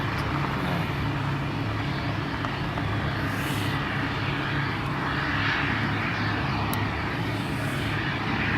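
Model airplanes flying at an air show at an airport, a steady loud engine drone continuing throughout with slight swells as they pass, no talk over it.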